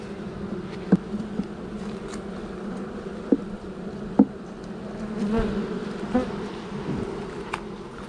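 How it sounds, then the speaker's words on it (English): Honey bees buzz in a steady, close hum throughout, with occasional sharper knocks and taps over the drone and no voices. "Heap of bees hiding down there."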